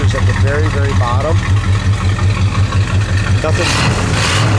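A 1966 El Camino with a big block V8 and dual exhaust idles steadily with a deep, even rumble, loud and continuous throughout, with brief voices and a burst of hiss near the end.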